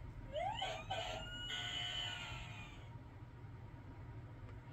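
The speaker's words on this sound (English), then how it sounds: "Pull over, make way for the fire truck." A fire truck siren wails nearby, its rising and falling tones sweeping over a steady low traffic and engine rumble for several seconds, with no voices.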